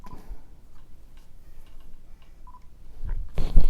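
Autofocus motor of a Nikon 50mm f1.2 Z lens on a Nikon Z6 body, faint short whirs and ticks close to the camera, followed by louder handling noise near the end.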